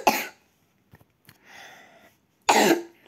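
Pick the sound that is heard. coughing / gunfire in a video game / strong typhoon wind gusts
coughing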